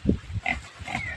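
Pigs grunting on a farm, a few short close grunts and snorts in quick succession over a quiet background.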